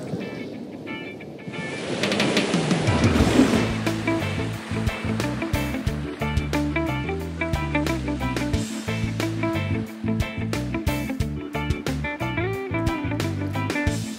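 Ocean surf breaks along the Moroccan coast at Imsouane, a roaring wash that swells in after a quiet start and then rushes on continuously with loud, dense spray, overlaid by rhythmic music.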